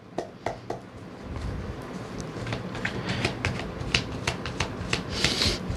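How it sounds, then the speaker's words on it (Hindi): Tarot cards are shuffled and drawn by hand at close range, giving a run of quick, crisp riffling flicks and snaps that come in irregular bursts and grow denser toward the end, with no talking. "let me take some other cards, ताकि राशियाँ भी आ जाएंगी"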